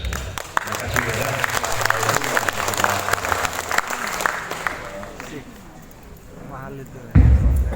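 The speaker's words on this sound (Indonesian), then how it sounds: "Luar biasa sekali lagi kita beri tepuk tangan" An audience applauds after a lecture on the legal history of Miangas island, with sustained clapping mixed with crowd noise and a speaking voice, tapering off before a louder burst near the end.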